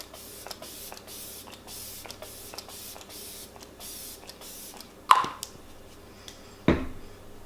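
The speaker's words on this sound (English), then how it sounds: "We're going to use the Flower Seal the Deal Hydrating Setting Spray." Two quick hiss bursts of Flower Seal the Deal hydrating setting spray mist a face, close and crisp, a short pause between them, over a quiet room.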